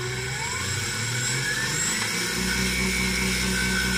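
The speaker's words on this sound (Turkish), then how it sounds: "Alternatörümüz bir motor olarak çalışıyor." A 12-volt, 65-amp car alternator running as an electric motor at high RPM, heard as a steady, loud whine and hum that climbs in pitch, then settles into a constant high drone.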